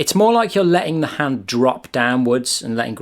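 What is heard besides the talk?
No everyday noise stands out behind the speech.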